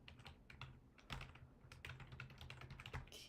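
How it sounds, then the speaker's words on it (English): Rapid, uneven keystrokes clatter on a computer keyboard, a busy run of close, quiet clicks with short pauses and a few firmer taps. "All right, we're just gonna keep typing in"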